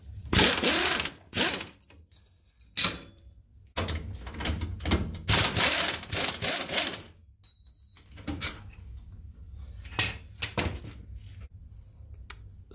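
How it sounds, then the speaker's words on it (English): A ratchet repeatedly clicks in short bursts while unbolting the turnbuckle stabilizer arm on a Kubota L3901 three-point hitch, with pauses and a few metallic clanks, close and loud. "I'll just unbolt this, remove the pin there, and then install the telescopic arms."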